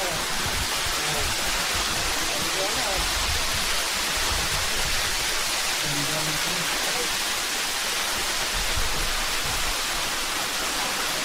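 Water at Tuay Falls in Rodriguez, Rizal pours in a steady, loud broadband rush, a constant hiss and roar with faint low sounds underneath.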